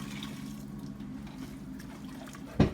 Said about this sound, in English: You pour in about a cup of beef broth